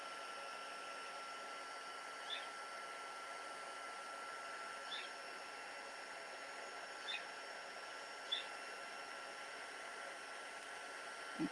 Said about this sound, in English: I'm just going to heat this up, and you'll see it goes really bright white when it's cooked.